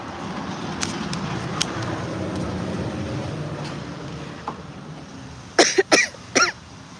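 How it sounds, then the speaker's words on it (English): A brief burst of three or four harsh coughs close by, rising out of a steady rushing background of wind or water. "and then I got the coughing fits."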